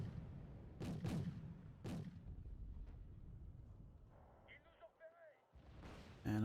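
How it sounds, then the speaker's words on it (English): Mortar bombardment in the real-time strategy game Wargame Red Dragon, a few booming distant blasts in quick succession followed by quieter rumbling and in-game sound effects, with a gusty wind-like backdrop. "I'm bombarding with those mortars"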